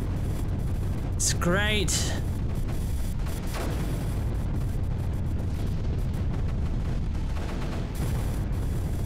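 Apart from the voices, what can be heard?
mortars firing in the video game Creeper World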